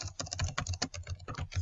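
Text being typed on a computer keyboard in a 3D design program: a quick, close run of irregular key clicks and taps, with no voice.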